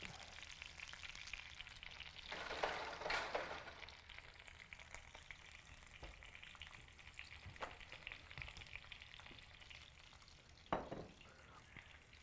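A sausage link fries in a pan with a steady, dense sizzle throughout, swelling louder around the second and third seconds, with a few sharp crackles and spatters popping out near the end.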